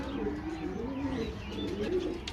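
Pigeons coo steadily in low, rolling phrases with a few soft chirps, close and continuous for a couple of seconds with no talking.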